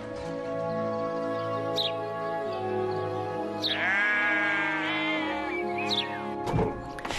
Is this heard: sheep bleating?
yes